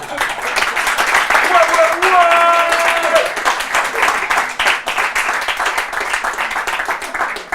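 A studio audience at a French televised talent show breaks into sustained applause, a dense wash of clapping that swells and then carries on steadily for several seconds, with a voice briefly heard over it.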